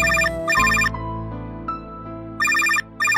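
Telephone ringtone in a Kannada short film, an electronic melodic ring in two short bursts, a pause of held tones, then two more bursts, loud and close with no talk.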